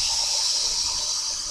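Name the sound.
water being poured into a Keurig K-Mini Plus coffee maker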